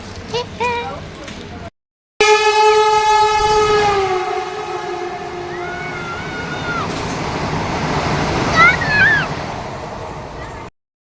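A train rumbles along with a long, loud horn blast of stacked tones, followed by steady rolling wagon noise and a few squealing wheel or brake whines, with people talking over it at times.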